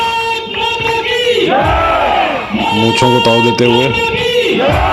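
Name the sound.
crowd hooting and cheering at the border retreat ceremony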